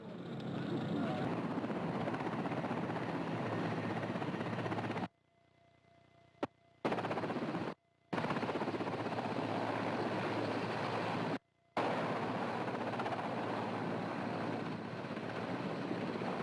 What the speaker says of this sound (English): one of the Russian Mi-8 helicopters now airborne, heading back to Karaganda